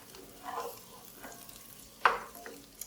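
A small diced onion cooks in melted butter with a faint, low sizzle. Quiet stirring scrapes come through, and one sharper clack stands out near the end. The sound is close and soft, with no voices.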